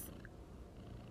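A female house cat purrs close up beside a person indoors, a faint, steady low rumble with a brief light click near the start and no talking.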